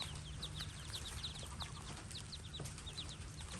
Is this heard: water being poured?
no